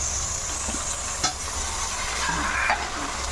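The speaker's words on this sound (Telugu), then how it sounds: "ఇప్పుడు అందులో నేను చికెన్ వేసేస్తున్నాను" Chicken hits hot fried onions in a pan with a steady loud sizzle and frying hiss, plus stirring scrapes and a brief clank. No talk over it.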